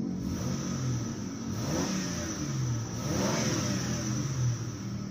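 A 2005 Mitsubishi Galant engine runs close by, revving up and settling back in a couple of rising and falling sweeps, with no one talking.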